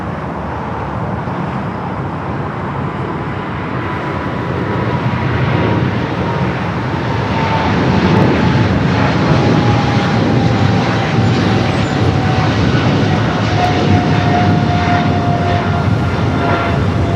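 A Southwest airliner takes off from runway 25 left at LAX, its jet engines building into a loud, steady roar that swells and holds, with a faint rising whine over the rumble.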